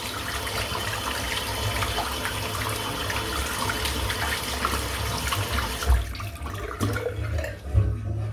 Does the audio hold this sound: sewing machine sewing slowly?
no